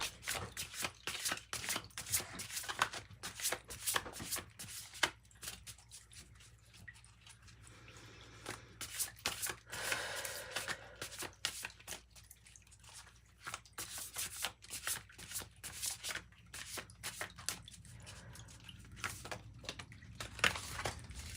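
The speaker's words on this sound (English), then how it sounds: "I'm gonna pull one of these cards from the spellcasting deck." Cards from a spellcasting deck are shuffled and drawn, with faint, quick papery riffles and flicks coming in irregular clusters and short pauses over a low background hum.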